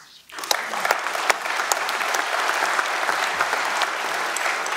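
Applause from the shareholders at Deutsche Telekom's annual general meeting, a dense, steady wash of many hands clapping that swells in after a brief quiet start and holds evenly throughout, with no talking.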